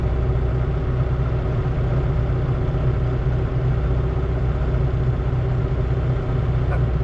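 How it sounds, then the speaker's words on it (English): The engine of a New Holland 8040 tractor pulling a subsoiler rumbles steadily at a low pitch. The drone stays constant and fairly close, with no talking. "Lovely looking tractor."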